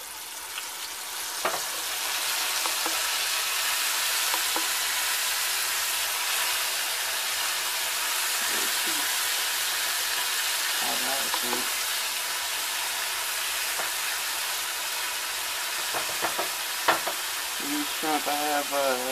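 Colossal shrimp dropped into hot oil on a stove, a loud continuous frying sizzle and hiss throughout, with small clinks and pops from handling now and then.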